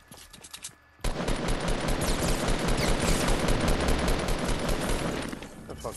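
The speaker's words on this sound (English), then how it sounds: "I see shots. Shots at house at Fatale." After a brief quieter moment, heavy rapid gunfire from a video game erupts and rattles on for several seconds in dense overlapping bursts, loud and close before easing at the end.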